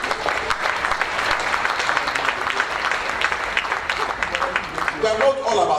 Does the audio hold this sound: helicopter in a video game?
no